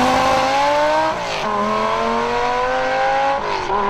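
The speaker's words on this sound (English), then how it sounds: "it was this small, sleek Lambo with this brand new Lamborghini-built 5-liter V10 making 500 horsepower" Lamborghini Gallardo with a 5-liter 500-horsepower V10 revs and pulls hard, a loud, smooth high-pitched engine wail that dips briefly on gear changes before climbing again, heard close and alone.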